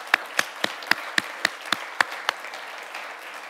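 Roughly nine sharp claps ring out at a steady, even pace, sparse and distinct, as a small audience applauds before falling silent for the last second.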